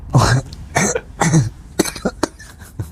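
A series of sharp coughs, three strong ones followed by several shorter, quieter hacks, close and fairly loud.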